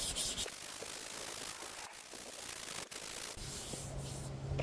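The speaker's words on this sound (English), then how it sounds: "with 180 grit sandpaper, just to knock off that sharp edge, so it will be nice and round like the other factory lines" 180 grit sandpaper is rubbed along a body line on a BMW G31 in a steady, close scratching hiss, with a couple of short pauses between strokes.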